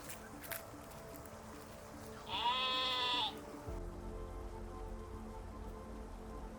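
A single sheep bleats once, loud and wavering for about a second, over a steady patter of rain and low background rumble.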